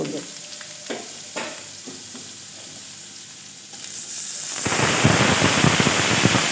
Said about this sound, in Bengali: এবার দিয়ে দেবো সরষা